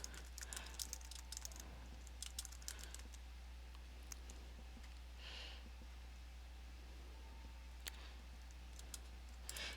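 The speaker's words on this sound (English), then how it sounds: "ooh, I can type, I can spell." Computer keyboard keys clacking in a steady, uneven run of close, crisp taps for nearly ten seconds over a constant low electrical hum, with no one talking.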